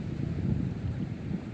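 Gusty wind buffets the microphone during windy-season tawes fishing, a low, continuous rumbling roar with no talk over it.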